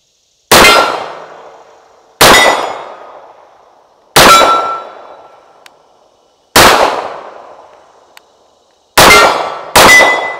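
Six sharp gunshots from an FN FNX 45 pistol, each followed by a ringing steel-target clang, spaced about two seconds apart with the last two close together, loud and near with no talk.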